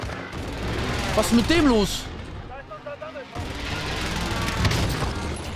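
Sniper rifle shots in a video game, a few sharp reports mixed into continuous game noise with someone speaking over them.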